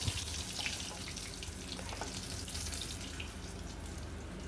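Fish frying in a covered pan, a steady, fairly loud crackling sizzle with a few sharper pops, continuous throughout with no talking.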